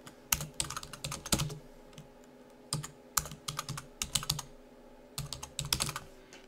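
Keystrokes on a computer keyboard while entering chart titles in a LibreOffice Calc spreadsheet, sharp close clicks falling in quick irregular bursts with short pauses between words, quiet and with no talking.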